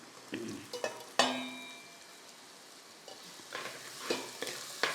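Green chillies dropped into hot oil in a pan for a mackerel curry, a soft sizzle with scattered crackles and stirring scrapes, close and fairly quiet, with no talking.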